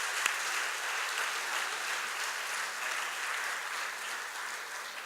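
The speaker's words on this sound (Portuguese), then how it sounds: "vamos aplaudir a palavra do Senhor" A church congregation applauds steadily throughout, a dense, continuous wash of clapping hands that fills the room at even loudness from start to finish.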